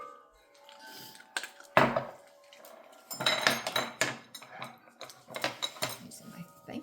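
A utensil mixes lemon bar crust with a cup of melted butter in a bowl, making intermittent clinks, knocks and scrapes against the dish, quiet and close, with pauses between bursts.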